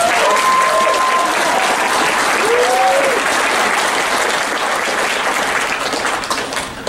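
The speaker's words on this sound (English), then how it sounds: "Let's give them a round of applause" Steady, loud applause from a crowd honoring new college graduates at a tribal college graduation ceremony, with a few brief voices rising over the clapping before it gently fades toward the end.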